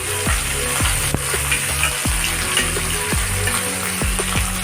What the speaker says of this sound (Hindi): अभी फिश फ्राई करते हैं।